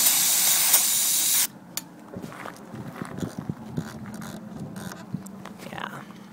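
An aerosol can of contact cleaner hisses in one strong, steady burst as it is sprayed onto amplifier potentiometers, followed by quiet clicks and small mechanical handling sounds close to the listener.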